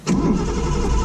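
A home-built Datsun 240Z catches on the starter after the accelerator is pumped and settles into a steady, loud idle close by, with no talk over it.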